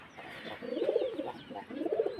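A pair of pigeons coos softly nearby, two or three low rolling coos rising and falling over a quiet background, with no one talking.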